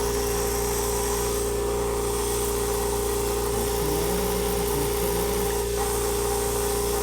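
A Stealth 12-gallon air compressor runs with a steady, loud motor drone and vibrating hum that holds unchanged from start to finish, with no voices.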